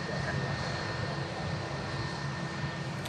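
A Turkish Airlines Airbus A321 jet at Manchester Airport produces a steady, broad engine roar that holds evenly throughout at moderate distance.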